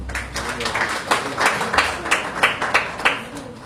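An audience claps during a keynote speech at a law society event, a brief ragged round of applause with a voice speaking over it.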